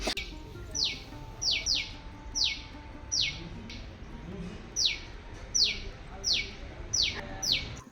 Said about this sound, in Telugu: మా వెనక సైడ్ అయితే బర్డ్స్ ఎంత బాగా అరుస్తున్నాయంటే